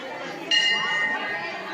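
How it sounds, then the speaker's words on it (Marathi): A temple bell at a Mahanubhav panth fair in Phaltan is rung once, giving a bright metallic ring that fades within a second over busy crowd chatter. "मी घंटी वाजवली"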